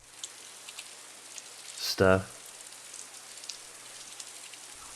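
Rain sound effect used in a music production, a steady soft wash of drizzle and droplets with a brief louder burst of voice near the middle where someone speaks.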